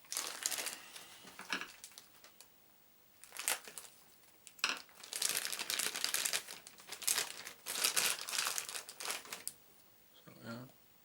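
Rubber model parts for a 1/16 scale Trumpeter SU-100 kit being pulled from a taped plastic bag, with bursts of crinkling and crushing plastic close by, between quieter gaps, with a voice talking now and then.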